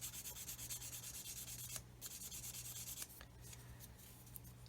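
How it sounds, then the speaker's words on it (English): Steady back-and-forth sanding on a HobbyBoss 1/35 Land Rover plastic model between its raised areas, a close, continuous rasping rub with a brief pause near two seconds and a low hum beneath. "so we need to sand in between them"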